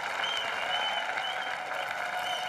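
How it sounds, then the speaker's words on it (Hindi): A studio audience on a television comedy show set applauds loudly and steadily, a dense wash of many hands clapping together without a break. "इनके लिए जोरदार तालियां"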